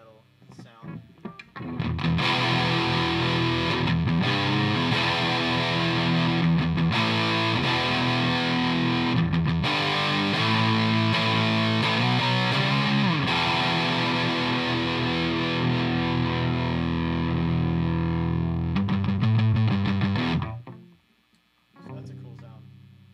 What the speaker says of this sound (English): You can combine gain 1 and gain 2 with the lows, and that'll give you a really heavy metal sound.